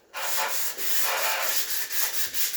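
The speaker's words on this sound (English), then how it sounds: "So I'm using my fingers as a guide so that the sandpaper doesn't go right onto the other wall." Sandpaper rubs by hand against a timber wall to remove excess plaster, making a close, gritty rasp in repeated back-and-forth strokes.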